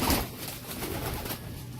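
Amritsari pigeons coo in a brief, soft burst of low murmuring calls, close by and alone without talk.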